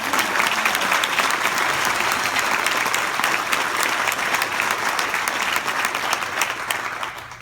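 Sustained applause from an audience honouring a small group of nurses at a sexual assault treatment center event, dense steady clapping throughout that tapers slightly at the end.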